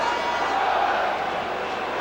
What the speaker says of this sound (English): a good cup tie crowd here at the Valley tonight